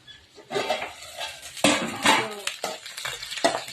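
Frying in a pan before chicken is added, with a clattering spoon stirring against the cookware over a soft sizzle, in uneven bursts.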